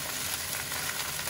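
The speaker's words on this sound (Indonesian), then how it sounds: "So, kita gaul dia perlahan." Mustard greens being stirred gently into anchovy fried rice with masala in a hot frying pan: a steady, even sizzle with faint scraping and stirring textures and no speech.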